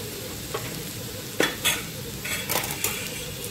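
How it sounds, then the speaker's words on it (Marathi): A spoon stirs a spiced bitter gourd (karela) mixture in a pan, scraping and clinking against the metal over a steady soft sizzle, with a few sharper knocks spaced irregularly and no voices. "पुन्हा एकदा याला चांगलं हलवून घ्यायचं।"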